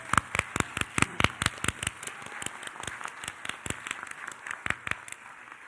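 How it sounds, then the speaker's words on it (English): Sparse, distinct hand claps from a small audience at an award ceremony, sharp separate slaps at an uneven rhythm, fairly quiet and fading slightly toward the end. "Let's give Angela a big round of applause."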